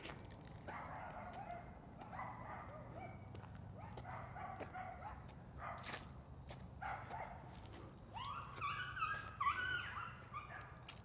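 Several dogs bark in bursts during an evening walk around Stockbridge, Georgia, with scuffling noises and footsteps among them, the barking growing louder and more agitated near the end as the dogs start fighting.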